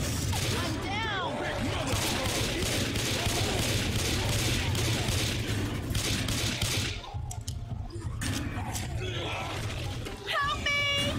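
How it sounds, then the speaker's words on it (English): Rapid, continuous Left 4 Dead 2 gunfire aimed at the Tank, loud bursts of shots over screams and groans, with voices talking through the action. "Everyone shoot the tank!"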